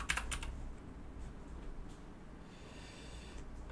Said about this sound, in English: I was typing angle